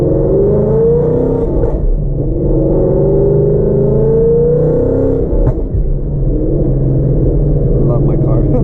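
Twin turbo Ford Mustang engine rumbling loud and close, a deep throaty drone with rising revs and a couple of sharp throttle blips, with voices faintly underneath.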